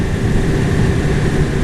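A Ducati 959 Panigale motorcycle engine roars loud and steady at high revs, a dense continuous drone with no break or pause for a clutchless upshift.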